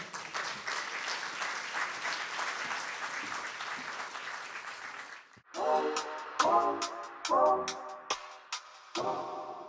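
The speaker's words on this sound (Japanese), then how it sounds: "皆様、大きな拍手でお迎えください。" A symposium audience breaks into dense, sustained applause to welcome a keynote speaker, loud and continuous, before it stops abruptly and the speaker's voice begins over the hall.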